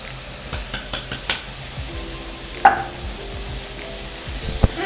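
A ground spice paste with raisin-and-cashew paste sizzling and being stirred in a pan for a Bengali green jackfruit dish, a soft continuous fry broken by scraping strokes and a few sharp utensil clinks against the pan.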